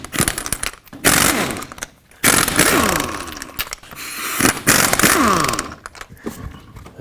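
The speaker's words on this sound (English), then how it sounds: "take off all 5 of your lug nuts with a 21mm socket" Lug nuts on a 1997-2003 Ford F-150 front wheel are spun off with a 21mm socket on a power impact tool, giving several loud, close buzzing bursts separated by short pauses.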